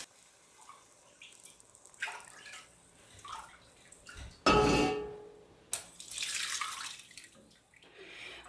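Stock pours into a pot of Ukrainian borscht with soft potatoes and vegetables, two distinct splashing gushes between quieter clinks and drips, close and fairly loud.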